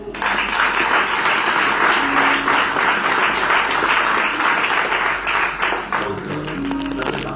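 A church congregation applauding together to acclaim the Lord, steady dense clapping throughout at moderate volume.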